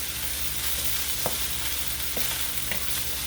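Chicken pieces stir-frying in a pan for a Chinese chicken and broccoli dish, a steady close sizzle with a few sharp spatula scrapes and clicks against the pan, no voices.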